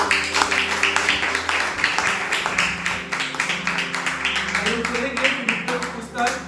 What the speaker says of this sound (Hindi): उसके लोगों के लिए हम जोरदार तालियां